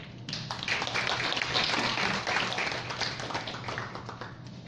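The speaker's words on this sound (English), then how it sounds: "Another round of applause for Mr. Diaz" An audience at a formal opening ceremony applauds a speaker, a dense, steady burst of many hands clapping that holds for several seconds, moderately distant and without talk.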